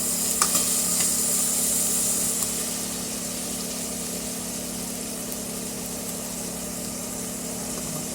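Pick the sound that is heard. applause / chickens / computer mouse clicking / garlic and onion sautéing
garlic and onion sautéing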